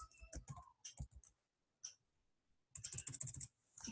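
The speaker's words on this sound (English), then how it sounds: "I'm typing my passphrase." Passphrase typed on a computer keyboard: quick clusters of close, sharp key clicks, a short pause, then a fast burst of rapid taps.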